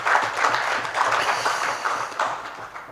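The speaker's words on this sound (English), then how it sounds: "Another hand clap for Patrick, please." Audience at a sports symposium and delegation meeting claps for a presenter, a steady wash of many hands filling the room for about three seconds without a break.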